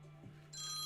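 A phone begins ringing indoors partway through, a short electronic ringtone with bright high tones rising over a quiet steady background hum.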